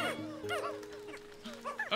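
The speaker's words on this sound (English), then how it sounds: "Come on, dog." A dog barks and yips in the video game Pikmin 4, giving several short, bright calls in quick bursts under a backing of soft game music.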